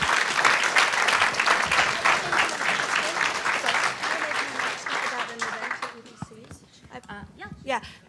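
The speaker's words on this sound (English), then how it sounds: "If we can get a strong hand of applause for all of our guest speakers." An audience at a community conversation on eliminating racial discrimination gives a strong round of applause for the guest speakers, loud and dense for about six seconds, then thinning as voices and movement take over.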